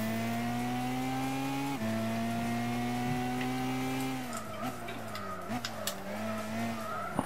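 A Lancia Delta HF Integrale in Gran Turismo 6 slides around a tricky corner, its engine holding a steady loud drone and briefly dipping in pitch, then tires squeal and scrub in repeated chirps as the car skids through.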